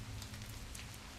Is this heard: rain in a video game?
yes